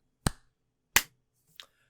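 A sync clap at the start of a podcast recording: two sharp, loud hand claps about three-quarters of a second apart, each ringing briefly, followed by a fainter third clap.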